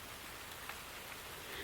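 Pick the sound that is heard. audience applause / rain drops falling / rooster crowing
rain drops falling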